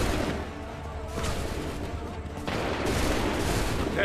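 A musket volley fires on command in Assassin's Creed 3, a loud booming crackle of many shots that rolls through the scene in dense waves, and a voice shouts orders among the gunfire.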